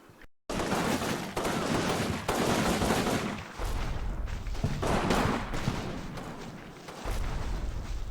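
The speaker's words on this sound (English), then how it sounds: "my machine guns from the hill are also shooting" Machine guns fire from a hill in a Combat Mission World War II battle, long rattling bursts with booming impacts mixed in, loud and nearly continuous with brief lulls between volleys.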